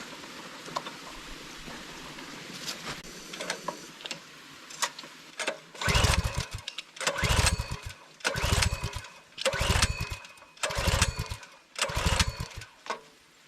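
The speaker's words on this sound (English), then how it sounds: "So once it starts, the engine should suck propane out." A small engine in a setup being converted to run on propane cranks in repeated bursts, sputtering roughly several times after a quiet stretch of faint background noise.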